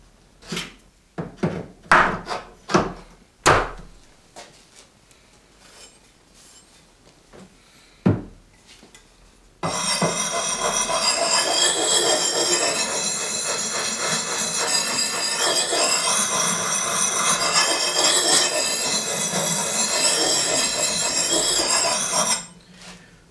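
A hatchet blade is drawn across a sharpening stone, first in a few separate scraping strokes, then in a long continuous rasping grind of metal on stone lasting over ten seconds before stopping abruptly.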